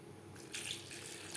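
Water is poured into a pan of spiced potatoes and pointed gourd, and a brief rushing hiss of pouring and bubbling swells up suddenly, close by and alone.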